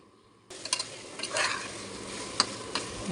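Shrimp and rice fry in a pan for a quick Maharashtrian-style shrimp rice. A steady soft sizzle runs under the sound, and a spoon scrapes and stirs through it in several close, uneven strokes.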